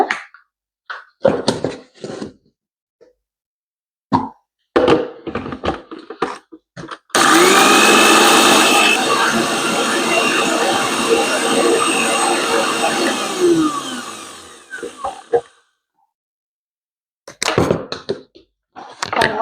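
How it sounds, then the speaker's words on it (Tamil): An electric mixer grinder whirs loudly for about eight seconds, grinding red rice flour batter ingredients with salt in a kitchen, with short bursts of speech before and after. "இதை வந்து மிக்சியில் அடித்து எடுக்கணும்"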